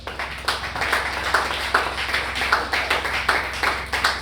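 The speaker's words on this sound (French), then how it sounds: "On peut applaudir pour ça." An audience claps at a church gospel celebration, a steady patter of many hands with rhythmic accents recurring roughly every half second, moderately loud and close, with no voices over it.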